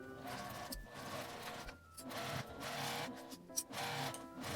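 A sewing machine runs in short bursts while stitching fabric seams with a one-centimeter allowance for a small shoulder tote bag, giving a quiet, steady mechanical whir broken by brief pauses.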